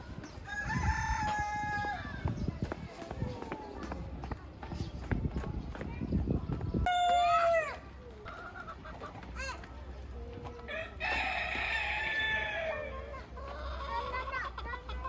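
Chickens and a rooster crow and cluck at a zoo in Jeonju where fowl share an enclosure with a large eagle and a peacock, the calls rising amid steady chatter from visitors talking nearby.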